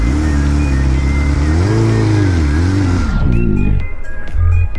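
A BMW S1000RR motorcycle engine revs loudly up close, its pitch rising and falling through several throttle blips before dropping away, with a few sharp clicks at the end.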